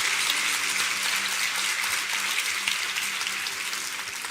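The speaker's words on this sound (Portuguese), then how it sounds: "Pode dar uma salva de palmas" A church congregation applauds with sustained, fairly loud clapping that holds steady and then tapers gently toward the end.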